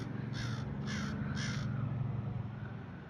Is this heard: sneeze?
no